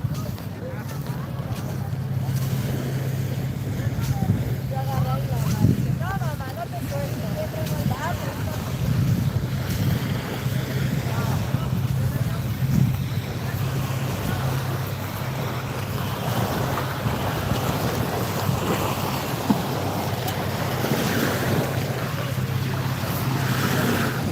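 Waves and wind at Alki Beach in Seattle, a steady wash of surf with heavy wind rumble buffeting the microphone throughout, waves breaking close by at an even, continuous level.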